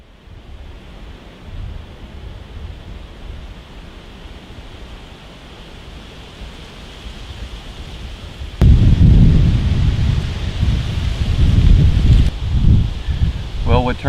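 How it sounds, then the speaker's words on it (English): Strong wind blowing at about 15 miles per hour outdoors on a cool day, a rushing, buffeting roar that jumps suddenly louder partway through and stays heavy, with speech heard under it. "the wind's blowing 15 miles an hour"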